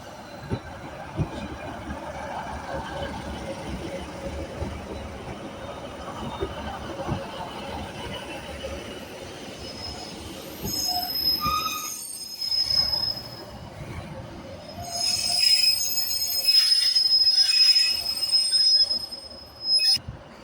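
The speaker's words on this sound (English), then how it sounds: "Arriving into Carlisle now is the Avanti West Coast 390 Pendolino from Glasgow Central to London Euston" Avanti West Coast Class 390 Pendolino arriving into Carlisle station, wheels squealing high and loud over rumbling rail noise, with the squeal rising toward the end and a voice talking over the train.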